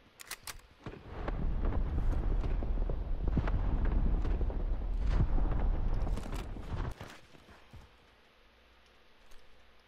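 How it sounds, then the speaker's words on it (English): Cluster strike explosions in a video game: a dense barrage of heavy booming blasts rolls together for several seconds, then fades into a quiet tail. "Cluster strike away."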